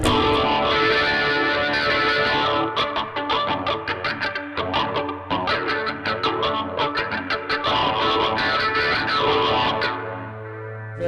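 Distorted electric guitar run through a wah-wah effect in Guitar Rig 2 software, swept with an expression pedal, playing a busy, rhythmic, loud phrase with echoing, chorus-tinged tone for about eleven seconds, no talking.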